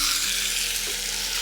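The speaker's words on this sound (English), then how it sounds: "Now I'm very carefully gonna lay this chicken in." Chicken is laid into a hot oiled pan and sizzles loudly and steadily close by for a moment, alone with no voices.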